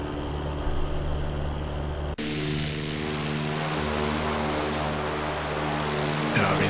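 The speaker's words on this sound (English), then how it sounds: "this sounds exactly like a Lycoming IO360" Simulated Robin DR400 light aircraft piston engine in X-Plane 11, likened to a Lycoming IO-360, drones steadily and loudly throughout, with a brief cut partway through before the same continuous propeller hum resumes.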